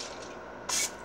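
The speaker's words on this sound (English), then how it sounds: "Just gonna spray it in there so the crab cakes don't stick." Butter cooking spray hisses briefly into an air fryer basket before crab cakes go in, one short close burst after quiet room tone.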